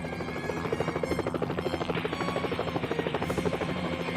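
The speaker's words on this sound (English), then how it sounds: "Aren't we simulating what it's like to really rescue someone in a helicopter?" A helicopter in the search-and-rescue game Helicopter Simulator 2014 drones steadily with a rapid rhythmic rotor chop that pulses throughout, close and continuous with no voices over it.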